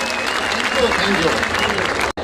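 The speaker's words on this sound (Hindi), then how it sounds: "एक बार जोरदार तालियां बजाइए" Loud, sustained audience applause fills the hall for a comedy poet from Gwalior at a Hindi humour poetry recital, steady and dense throughout before cutting off abruptly near the end.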